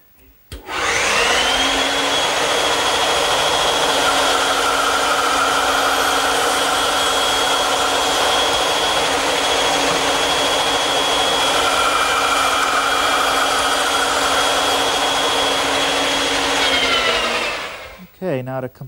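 A table saw in a woodworking shop cuts tenons in wood, giving a loud, steady whine that spins up, holds for about sixteen seconds and then winds down, close and alone.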